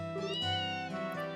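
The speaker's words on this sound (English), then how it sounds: "The kittens are all so fluffy and happy and full of energy." A kitten meows in the video game Trails in the Sky SC, a single short, soft, tonal cry of about a second and a half, heard alone and quietly.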